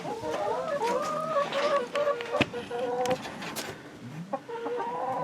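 Chickens cluck and squawk around a newly built automatic waterer on a homestead, their calls layered and continuous at close range with occasional louder squawks.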